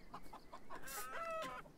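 Chickens cluck in quick short bursts, then one draws out a longer crowing call, in the Beyond Eyes video game, over a quiet outdoor ambience with no speech.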